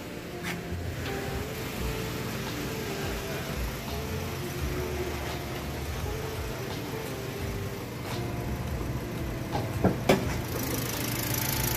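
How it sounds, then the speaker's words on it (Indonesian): A used manual car's engine idles steadily up close with a low, even rumble, a few clicks and knocks near the end, and someone talking faintly in the background. "mesinnya masih oke banget."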